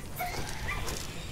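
Dogs in the dark fantasy souls-like roguelite game Heretical, yelping and whimpering in short bursts over a steady game backdrop, fairly close and moderately loud, with no talk.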